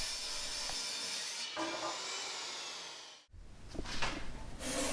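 A table saw rips the rounded factory edge off a wooden 2x6 board, giving a loud, steady sawing roar that cuts off abruptly past the midpoint, then starts again as the blade bites back into the wood.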